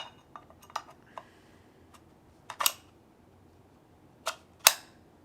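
An AR-15 magazine release being tested on a home-built rifle produces a few sharp metallic clicks and clacks, close by, with two louder snaps near the end and quiet gaps between.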